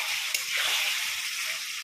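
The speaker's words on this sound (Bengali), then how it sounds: "এরপর আমি আলুগুলোকে এর মধ্যে দিয়ে কিছুক্ষণ সময় ভালো করে কষিয়ে নেব, যাতে মশলার সাথে আলু ভালো করে কষে যায়।" Potatoes fry with spices in a pan, a dense, even hiss of sizzling oil close up that holds steady and then cuts off abruptly.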